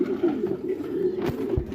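Low, rolling coos of a pigeon sitting on its eggs repeat steadily throughout, close by, with a couple of soft thumps near the end.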